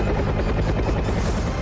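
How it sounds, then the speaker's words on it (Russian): Heavy Mi-26 helicopter rotor and twin-engine roar, loud and continuous as heard from the ground while it lifts a Mi-8 slung on a cable. "Но по-настоящему чудовищную мощь вертолета Ми-26 можно ощутить именно с земли."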